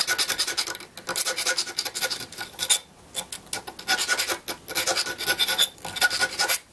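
Burrs are filed and smoothed off a handmade coin ring: close, loud rasping strokes repeat in quick bursts, with a brief pause near the middle and no talking.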